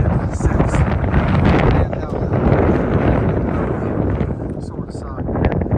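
Strong wind gusts across an open mountain ridge on a long-distance hiking trail, buffeting the microphone with a loud, constant rumble that swells and eases, while a voice is faintly heard underneath.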